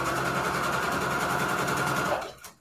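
A sewing machine stitches a string quilt junk journal cover, a fast steady close whir that runs for about two seconds before slowing and stopping.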